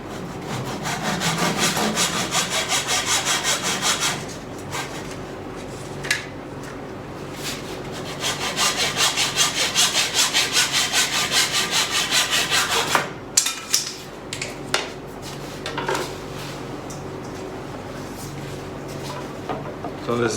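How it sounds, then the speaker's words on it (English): Handsaw cutting wood with a flush trim saw, steady rasping strokes for several seconds, then a benchtop belt sander whirring against the wood in bursts while fitting a console cabinet door, with brief pauses between passes. "flush trim cut saw just to cut that off to length, roughly. And then I'm using the benchtop belt sander to get that final fit."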